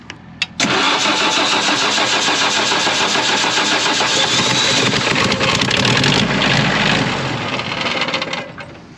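A Spra-Coupe sprayer engine cranks briefly, then catches and roars steadily at close range for several seconds before dropping slightly toward idle.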